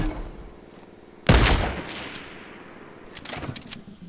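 Gunfire from the video game Fortnite during a sniper clay pigeon shootout: one sharp loud shot followed by a ringing decay, then a few fainter quick cracks, heard alone without talk.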